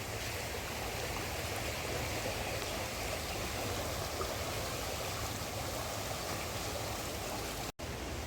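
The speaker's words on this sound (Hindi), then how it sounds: "इतनी तेज़ स्पीड हो रखी है पानी की।" Rushing water roars steadily and loudly, a dense, unbroken churn of the fast-flowing, rain-flooded Ganges at Haridwar, with only a brief dropout near the end.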